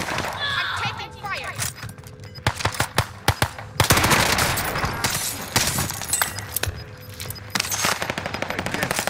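Gunfire in an online shooter game, with a gas zone closing in, comes as rapid automatic bursts and sharp single shots, loud and close, in several volleys broken by short pauses, with breaking-glass crashes and a voice talking over it.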